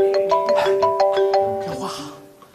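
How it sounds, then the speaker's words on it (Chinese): A phone rings indoors in a repeating electronic melody of short bright tones, fairly loud and close, ending as a voice begins to speak. "电话。"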